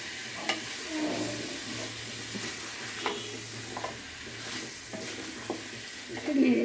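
Potatoes sautéing in a thick spice masala, with steady frying crackle under repeated scraping and stirring strokes of a spoon against the pan, close and moderately loud.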